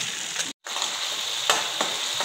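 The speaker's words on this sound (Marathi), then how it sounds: "ही स्लरी आपण आपल्या या सॉसमध्ये टाकून घ्यायची आहे आणि व्यवस्थित हलवून घ्यायची आहे।" Chicken lollipop sauce sizzling in a pan as a slurry is stirred in, steady frying hiss with a brief cut and a few louder scraping stirs, close and alone.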